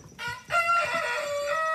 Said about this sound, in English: Look at this poor chicken right here.